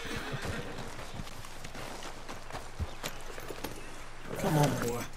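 A horse in the video game Red Dead Redemption 2 gives a brief neigh near the end, over faint hoof clatter and mixed with background voices and game sounds.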